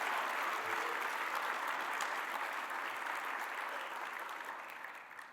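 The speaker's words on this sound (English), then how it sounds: "One more round of applause for the Frans Edelman finalist teams of" A conference audience at an analytics awards gala applauds the finalist teams, sustained dense clapping from a large crowd that gradually fades toward the end.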